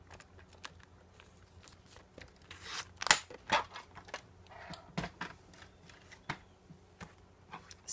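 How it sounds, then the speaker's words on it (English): A scoring tool presses into cardstock between cut marks on a scoring board for a handmade reveal card, producing a series of close, irregular scraping clicks and taps with quiet gaps between them. "So put it at 3 1/8 and score there between your cut marks."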